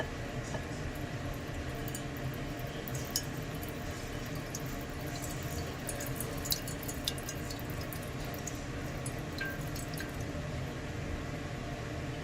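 Hot water poured steadily over a scored glass bottle, a continuous close splashing and trickling with scattered drips and small bright spatters throughout.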